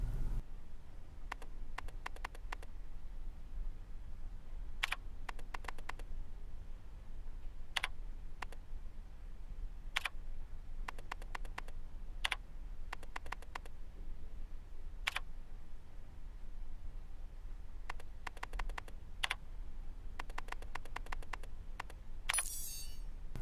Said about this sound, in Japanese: このキーボードでカストルと入力していきます